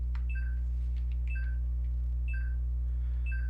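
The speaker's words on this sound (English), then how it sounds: "it tells you that you're in a search area, and it kind of has that beeping going on" Repeated electronic beeps in a search area of the Unreal Engine game On Your Own, two-tone chirps recurring about once per second over a steady low hum, clear and alone with no talking.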